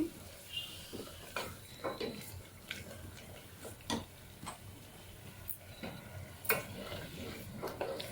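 Tomato masala fries in oil in a pan, a soft sizzle under scattered ticks and spoon scrapes against the pan, faint and close.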